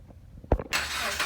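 A car engine is revved after a serpentine drive belt replacement: a brief thump, then the engine roars up and holds a loud, steady rising note, close up.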